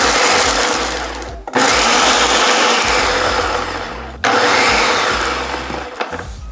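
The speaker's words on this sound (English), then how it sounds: "And now I'll blend this up. This is the most complicated food processor." A food processor blends pine nuts for a pasta sauce, its motor roaring loud and close in three long bursts with brief pauses between, the whine easing slightly within each pulse.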